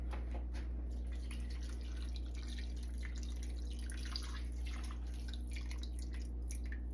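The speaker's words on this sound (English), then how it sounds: "let me add some more water." Water pours and drips into a pot of oxtail cooking on a stove, a faint steady trickle over a low kitchen hum.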